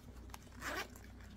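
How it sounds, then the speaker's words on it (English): A zipper on a soft bag from an online haul slides open in one short rasping pull, fairly close and moderately loud, over a low steady background hum. "The zipper on the top, there is a zipper pocket inside."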